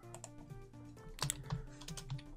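Keys clatter on a German computer keyboard during Java coding, soft clicks at first and then a denser run of sharper taps, close-miked, quiet and without speech.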